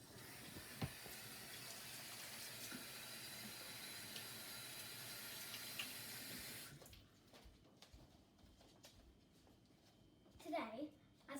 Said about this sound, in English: Now, of course, I need to wash my hands.